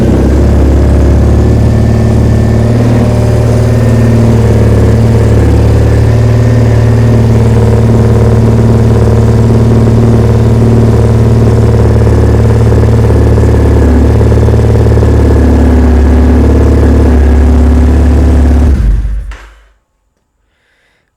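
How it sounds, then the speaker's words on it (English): A Triumph Modern Classics motorcycle engine runs at a steady, loud, close idle with a deep even throb for about nineteen seconds, then cuts off abruptly into silence. "let me hit the starter"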